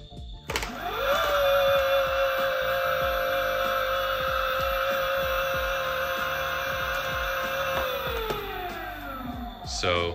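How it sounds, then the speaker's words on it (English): Electric motor from a Kawasaki KLS250sf enduro dirt bike converted to electric, running on a bench: a smooth whine spins up, holds steady for about seven seconds, then winds down, with faint ticking underneath. "And basically, I can run the motor."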